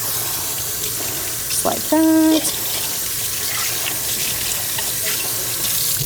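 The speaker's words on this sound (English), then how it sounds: "we're going to rinse it with water in the opposite sink" Tap water runs steadily into a sink as a surgical tool is rinsed after sterilizing, with a brief tonal squeak partway through and a few spoken words over the flow.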